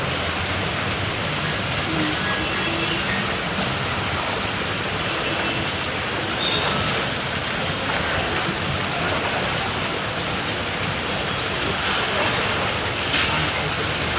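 Steady, dense rain pours throughout, a continuous broadband hiss of drops striking surfaces, loud and close with no pauses.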